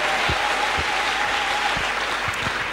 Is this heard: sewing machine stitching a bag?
no